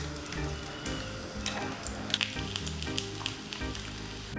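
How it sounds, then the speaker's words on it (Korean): Eggplant slices fry slowly over low heat in four tablespoons of cooking oil, giving a close, steady sizzle with a few sharp little pops. "프라이팬에 식용유 4 테이블스푼을 넣고 가지를 구워주세요"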